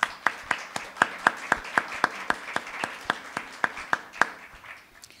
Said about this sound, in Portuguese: uma salva de palmas para a Thaís.